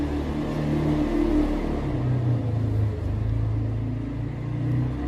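A car's engine rumbles past nearby, a low steady drone that swells and fades, with no talking.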